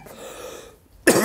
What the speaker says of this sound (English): Nothing worse than coughing with a microphone.